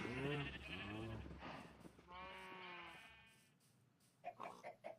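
Sheep in the Minecraft video game bleat in a few wavering, nasal calls, fairly close and clear, followed by brief short clicking sounds near the end.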